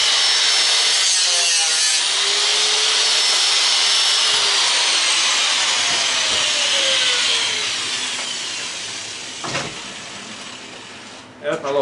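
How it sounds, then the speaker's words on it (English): A small 4-inch angle grinder cuts into a garbage disposal with a black plastic housing, producing a loud, continuous, close abrasive whine with shifting pitch that drops away near the end. "a little 4-inch grinder"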